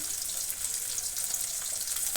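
Hot oil with frying fish hisses and spits with sharp, crackling pops, close and steady over a couple of seconds.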